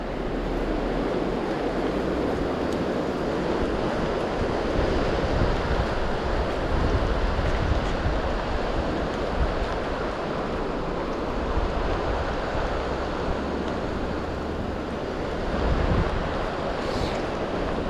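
Steady, loud rushing water of the Elwha River after the first fall rainstorms roars without a break, a broad continuous wash of sound with some wind buffeting and no voices.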